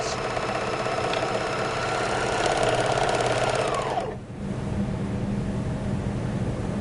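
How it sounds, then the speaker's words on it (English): A BERNINA overlocker runs at speed sewing a 2-thread wrapped overlock stitch with decorative thread, a loud steady mechanical whir that drops off briefly near the end before the motor hum resumes. "Simply reduce your lower looper tension, thread with a decorative thread, and stitch."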